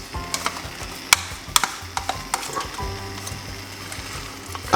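Mixed peppers and vegetables fry in a pan with a soft, steady sizzle broken by scattered sharp crackles and pops, fairly quiet and close.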